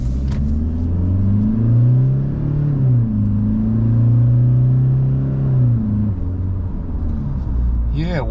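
A 2021 Toyota Hilux Rogue ute with a 150 kW engine accelerates hard from inside the cab, its loud engine drone climbing in pitch and dropping back through two gear changes.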